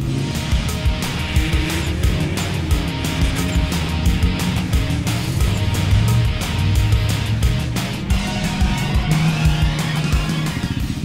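Race cars at the Orlen Super Race round in Kleczew on a muddy track, loud engines revving and droning continuously with rising and falling pitch, no talk.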